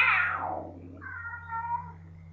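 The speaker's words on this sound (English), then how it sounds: "He keeps meowing at me, shaking his head like I can't believe this." A cat meows twice, first a loud, falling cry and then a quieter, steadier second call, both close by with no talking over them.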